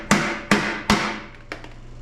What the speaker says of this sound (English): giving them a little tappy tap, try to flatten them back out.